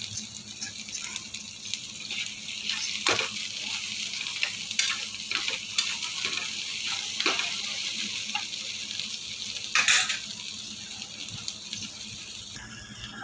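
Salted okra (bhindi) cooking covered in a pan, a steady moderate sizzle and crackle throughout, broken by occasional soft taps and ticks, close by with no talking.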